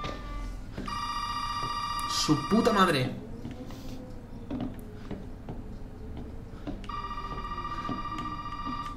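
A phone rings in a house in the horror game Resident Evil 7, giving one steady ring, then another ring a few seconds later. In between comes a sharp swooping effect, and a man mutters under the ambient rumble.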